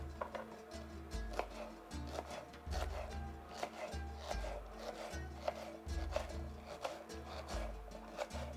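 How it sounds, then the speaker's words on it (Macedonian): Peppers being chopped with a knife on a cutting board, a steady run of firm, evenly spaced thuds repeating close by over a low background hum. "Ќе ги сечкам и ќе ги испржам."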